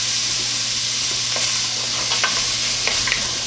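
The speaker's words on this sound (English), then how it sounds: "So we're going to let this saute for about 3 to 5 minutes until the veggies get a little soft." Vegetables for split pea soup saute in a pot, a steady close sizzle with a few scattered spoon scrapes and stirs, no talking.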